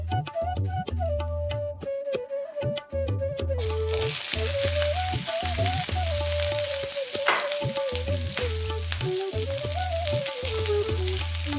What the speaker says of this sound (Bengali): লাল লাল করে ভাজা হয়ে গেছে ক্যাপসিকামগুলো